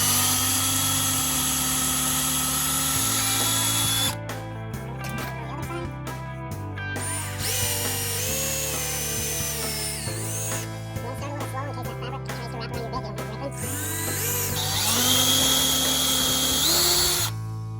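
Power drill boring short starter pilot holes for 3/4-inch screws during a Duckworth Offshore boat seat upgrade, with repeated whirring bursts that rise and fall in pitch, loud and close, sometimes overlapping background music.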